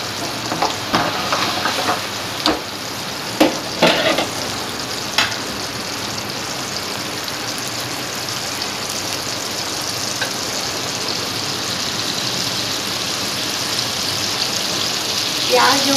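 Chopped tomatoes sizzling and crackling steadily in hot oil for a Pakistani-style chicken biryani, with a few sharp stirring knocks early on and a continuous frying hiss throughout.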